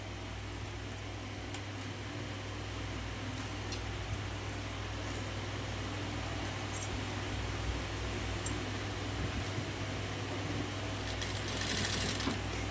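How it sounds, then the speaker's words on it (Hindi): A sewing machine stitches along the very edge of lace-trimmed fabric, running as a continuous close mechanical whir with a steady low hum and faint clicks, no voices. "अब इसके बिल्कुल किनारे के ऊपर मैं सिलाई लगाती जाऊंगी"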